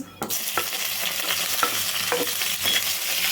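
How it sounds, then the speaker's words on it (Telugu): Hot oil sizzles and crackles steadily as a tempering of urad dal and green chilli fries, while a spoon stirs with light scraping clicks at intervals; close and fairly loud, no talking. "చూడండి తాలింపు అయితే మంచిగా వేగింది"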